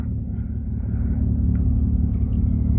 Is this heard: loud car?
yes